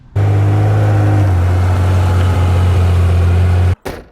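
A Porsche 911 Turbo Carrera engine runs close and loud, a steady low rumble holding for several seconds before cutting off abruptly, then a brief burst after.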